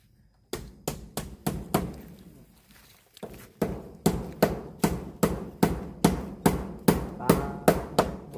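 Steady, rhythmic hammer blows pounding something in tight, about twenty sharp strikes at a regular pace after a short pause, loud and close, with a brief break near the middle.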